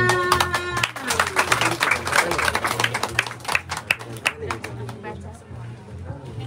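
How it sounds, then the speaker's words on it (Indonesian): An audience claps at a community book-giving event in Papua, a short burst of lively clapping mixed with chatter and voices, with a low music or drone bed underneath, thinning out toward the end. "Tepuk tangan."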